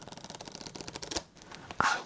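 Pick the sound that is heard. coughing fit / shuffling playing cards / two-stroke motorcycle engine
shuffling playing cards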